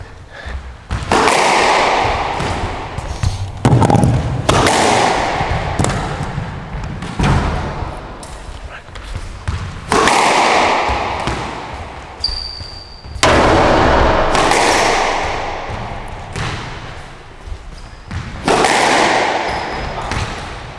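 A padel ball is hit repeatedly during drop shot practice, sharp thuds from the racket spaced a few seconds apart, each followed by broad court noise and faint voices in the background.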